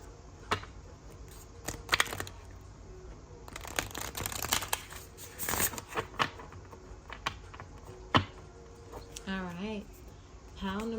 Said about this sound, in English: we're going to start by shuffling the cards